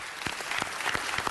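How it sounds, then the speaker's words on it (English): Applause from members and attendees at a city council meeting, a scattered, fairly quiet patter of clapping with a few distinct louder claps standing out. "Mr. Buscaino, they deserve a round of applause."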